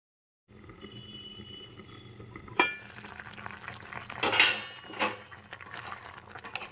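Mango and jaggery being stirred together in a hot pan for a sweet-sour mango pickle: a steady low sizzle broken by several louder scraping sweeps of a spoon against the metal, with no talking.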